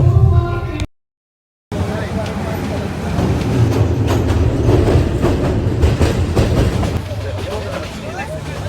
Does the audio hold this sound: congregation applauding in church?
no